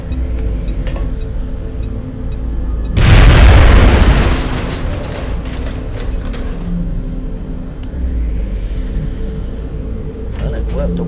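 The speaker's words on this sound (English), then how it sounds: "Throwing grenade." A grenade detonates in the turn-based strategy game X-Com: Enemy Unknown, one loud booming blast with a noisy burst of debris that fades into a low rumble, set against steady background game ambience.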